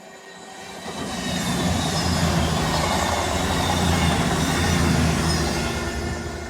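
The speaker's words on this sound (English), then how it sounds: "That was the 2 diesel specials on the Seawall." Two diesel special trains pass along a seawall, a loud, steady roar and rumble that swells in and holds close for several seconds, with no voices.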